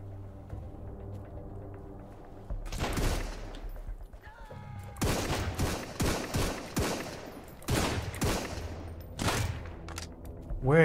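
Gunshots in the survival game Sunkenland, a series of loud sharp reports in irregular bursts, some close and cracking, others echoing, with brief pauses between volleys.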